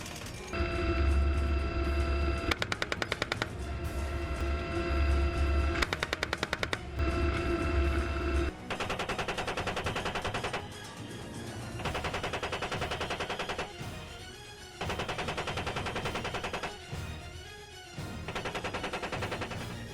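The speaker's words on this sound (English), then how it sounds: "The 30mm chain gun has a fire rate of 625 rounds per minute with a capacity of 1200 rounds" A 30mm chain gun on an Apache helicopter gunship fires in loud sustained bursts, rapid rhythmic reports with brief pauses between strings of fire, dense and mechanical, with no voices.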